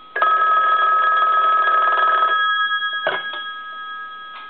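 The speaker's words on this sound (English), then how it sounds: "Let's go ahead and ring the telephone." An ITT 500 rotary desk telephone's mechanical bell rings loudly in a sustained metallic trill for about two seconds, then a couple of short clanging taps follow as it fades.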